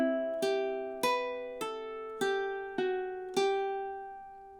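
Ukulele plucking a slow bar of a song: seven clear, ringing notes, played one at a time at an unhurried pace, each sustaining and decaying, close and quiet.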